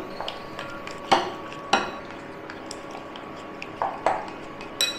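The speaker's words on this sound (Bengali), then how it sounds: "এবারে এটাকে ভালো করে মিশিয়ে নেবো" Spoon or whisk clinking against a bowl while cauliflower pakora batter is mixed with water, a few sharp metallic taps spaced irregularly over a soft background hum.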